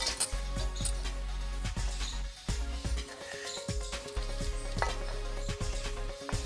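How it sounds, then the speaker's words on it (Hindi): Lemons sliced into small pieces with a knife for pickle: a series of sharp, evenly spaced chops, near and clear, over a low steady hum. "आपको जितने छोटे छोटे पीसेस रखने हैं आप उस हिसाब से छोटे छोटे पीसेस काट ले"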